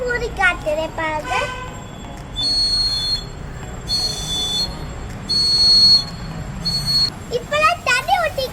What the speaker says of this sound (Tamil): இப்போ என் கையில் ஒரு குட்டி குருவி ஒரு விசில் இருக்கு, ராவல் விசில்.